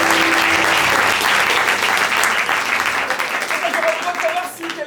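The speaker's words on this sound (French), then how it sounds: "on peut les applaudir pour votre fils" Loud, dense applause from an improv theatre audience at an improv festival, a continuous roar of clapping that tapers slightly toward the end, with a voice briefly emerging over it.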